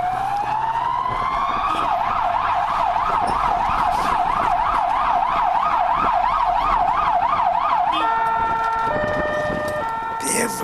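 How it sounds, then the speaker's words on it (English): A Falls Village volunteer ambulance siren wails loudly and close, sweeping up and then cycling in a fast rising-and-falling yelp before switching to a different tone near the end. "shriek of an ambulance siren, warning of a life and death emergency"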